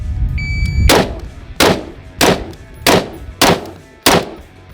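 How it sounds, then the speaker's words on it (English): Pistol shots on an outdoor training range, six loud sharp cracks at a slow, even cadence with roughly half-second to one-second gaps between them. "So the shooting was very slow, basically a half-second splits for each one."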